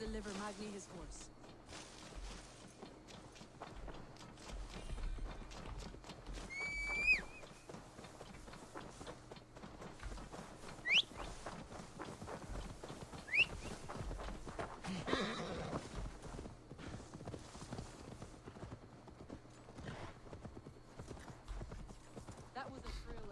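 Horse hooves clip-clop in the video game Assassin's Creed Valhalla, a steady mid-distance trot with occasional whinnies, running under game music and some talk.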